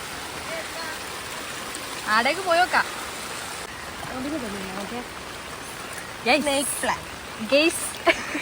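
Steady outdoor rain and flowing rainwater hiss continuously at an even level on an evening walk, while voices talk in short bursts over it.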